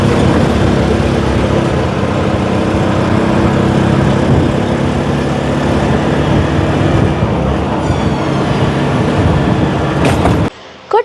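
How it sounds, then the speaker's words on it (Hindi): Auto rickshaw ride through Colombo, Sri Lanka: a steady, loud engine drone and road rumble run continuously for about ten seconds, then cut off abruptly near the end. "तो बस अभी ऑटो राइड का मज़ा लेते हुए हम जा रहे हैं अपने हॉस्टल।"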